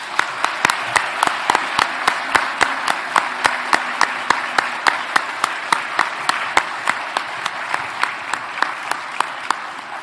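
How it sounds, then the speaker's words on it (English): A crowd at a veterinary college white coat ceremony applauds the award recipients, a sustained even wash of clapping with sharp individual claps standing out near the front, lasting about ten seconds without talking. "A round of applause to all our recipients."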